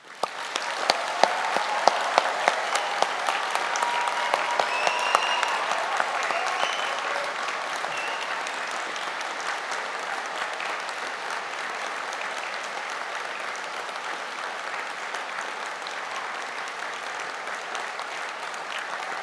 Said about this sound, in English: let's start today by giving our amazing graduates a huge round of applause.